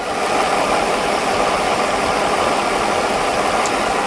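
A car engine idles after a fuel distributor rebuild, heard close with a steady, even hiss-laden mechanical hum and faint ticking throughout, no voices.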